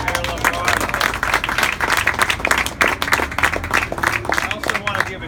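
An outdoor audience at a city art walk applauding the mayor, lively mixed clapping and crowd noise with a few cheers, close and fairly loud, sustained across the whole stretch.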